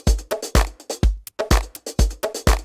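A house drum loop plays a four-on-the-floor kick with claps, hi-hats and bongo hits in a tight repeating groove, punchy and loud with no other sound.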